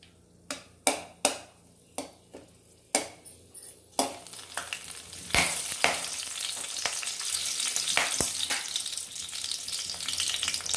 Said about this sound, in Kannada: ನಂತರ ನಾವು ಹಸಿಮೆಣಸಿನ್ಕಾಯಿ ಹಾಕ್ಕೊಂಬಿಡೋಣ.